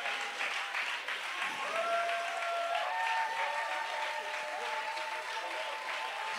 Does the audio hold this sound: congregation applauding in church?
yes